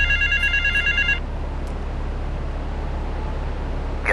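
A payphone rings in the video game Grand Theft Auto III, with a few bright electronic ring bursts for about a second before cutting off. A low, steady hum of city ambience continues underneath to the end.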